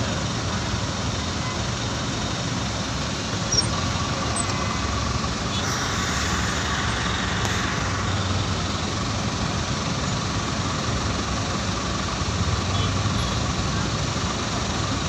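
A traffic jam in Rahuri with idling cars and trucks: a dense, continuous engine rumble and road noise hold steady and loud throughout, with no clear breaks.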